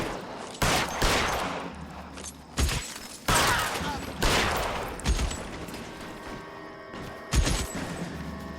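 Bursts of gunfire from the video game L.A. Noire, several loud sharp shots and volleys spread across the span with reverberant tails and background rumble between them.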